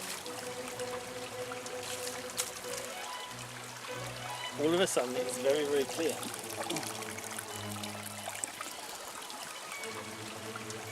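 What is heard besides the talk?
water from a plastic cup thrown onto aqueduct base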